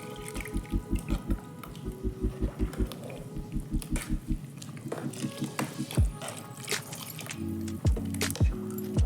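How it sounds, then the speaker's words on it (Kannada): Water poured into a pot of sambar made with sprouted mixed legumes after frying the spices, heard as close splashing and dripping in an uneven run of bursts, with a few louder gurgles near the end. "ಇಷ್ಟು ಫ್ರೈ ಮಾಡಿಕೊಂಡ್ರೆ ಇವಾಗ ನೀರು ಹಾಕೋತಾ ಇದ್ದೀನಿ."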